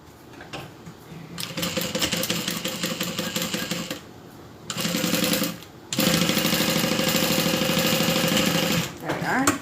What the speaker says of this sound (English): And top stitching is the last step.